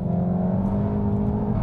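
A steady car engine drones at idle or low revs, a continuous low hum with no voices.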